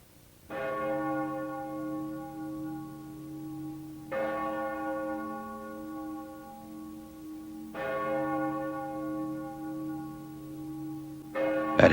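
Church bells toll slowly for the death of a president in 1865, with three deep, resonant strikes spaced several seconds apart and a fourth beginning at the end. Each ring hums on and fades, alone with no voices.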